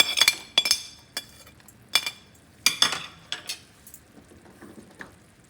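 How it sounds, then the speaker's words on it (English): Chopped nuts tipped into a rawa ladoo mixture, a series of close, bright clinks and scrapes against a metal vessel, several sharp hits early then softer stirring taps fading out. "Now I'm going to add all the nuts."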